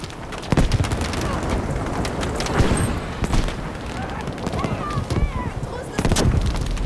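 Battlefield V battle: repeated gunshots and heavy booms crack out at irregular intervals over a constant roar of combat, with scattered impacts throughout.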